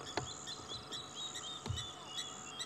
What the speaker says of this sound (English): fascinating scenes here, as well as sounds with all the birds calling